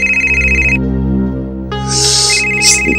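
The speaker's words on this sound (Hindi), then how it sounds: "इस कुमार को भी अभी फोन करना था" An electronic telephone ringtone rings loudly in a repeating melodic pattern inside a TV crime drama scene, with no talk over it.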